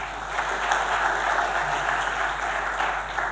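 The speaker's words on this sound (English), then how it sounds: "Could we give them another round of applause, please?" A room full of people claps steadily at an economic report launch event, a dense even applause throughout without a break.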